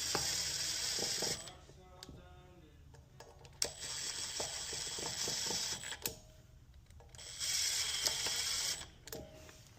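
An impact wrench snugs the brake bolts on a Talaria XXX electric moto during a FactoryZ brake kit install, firing in three loud, whirring bursts of rapid hammering separated by quieter gaps with small workshop clatter.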